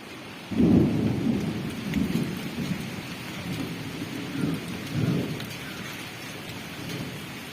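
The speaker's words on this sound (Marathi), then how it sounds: "आला पाऊस आला" Rain falls steadily in Sawantwadi, Konkan, while low rumbles of thunder roll in, the first loudest, then fainter rolls fading in and out over the constant patter.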